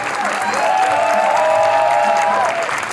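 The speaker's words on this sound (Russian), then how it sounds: "Вам аплодируют зрители." A studio audience at a joke show applauds in a dense, steady wash of clapping, with a sustained tonal ring running through it, near and loud for the full stretch.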